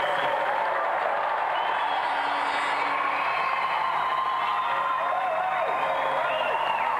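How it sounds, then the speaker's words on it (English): A studio audience at a televised gaming show applauds and cheers steadily for the final competitor, a dense, even wash of clapping with whoops while voices talk over it. "a round of applause for our final competitor tonight, Rod Rambo Lynette"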